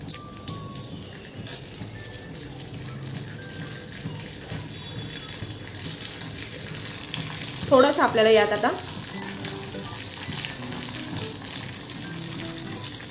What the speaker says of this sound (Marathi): आता आपण फोडणी करूया